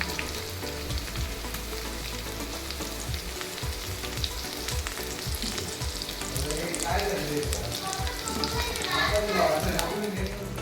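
Chicken fries in oil in a pan for a hotel-style gravy, giving a steady sizzle with scattered crackles and utensil knocks, growing a little louder and busier toward the end.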